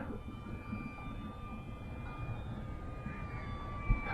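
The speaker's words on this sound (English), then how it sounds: "That motor is super loud." The motor of an OMPHOBBY T720 RC trainer plane in flight gives a steady, high-pitched whine over a low rumbling background, holding a fairly even tone throughout with a small bump near the end.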